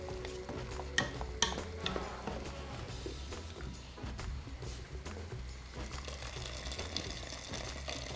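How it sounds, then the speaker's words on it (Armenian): Water poured into a pot of Armenian meatball tanapur soup, a steady splashing wash with a few clinks of cookware, no talk. "Ավելացնում եմ ջուր, իհարկե, ջուր։"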